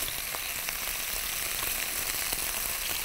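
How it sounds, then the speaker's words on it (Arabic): Meat searing in a hot pan, a steady, loud, dense crackling sizzle with no pauses. "اللي انا بعمله دلوقتي ان انا بس بشوح اللحمه"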